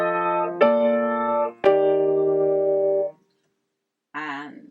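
Piano chords voicing a tune's guide tones inverted, seventh on the bottom and third on top, each chord struck and held with sustained ringing, then a pause and a short burst of another sound at the end.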